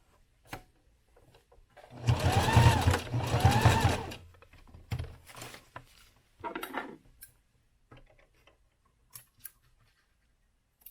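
Sewing machine stitching a leather sling saddle, running in two bursts of about two seconds each, then a few short clicks and taps from handling the work, with no talk.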